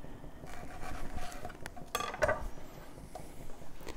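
A big chef's knife cuts the center stem out of a pineapple, giving a few soft, close knife strokes and scrapes against a board, with light clinks of kitchen utensils around them.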